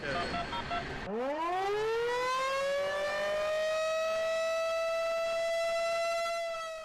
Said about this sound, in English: the revolving sirens are tested from Newberry's communication center every week